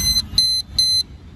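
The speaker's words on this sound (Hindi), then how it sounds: "ये जो सिंगल बीप आया है, सिंगल बीप मतलब ये लग गया" An anti-theft disc brake lock with a security alarm lets out three short, bright electronic beeps in quick succession, loud and close, clipped and evenly spaced.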